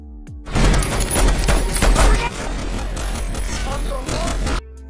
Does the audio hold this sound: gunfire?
yes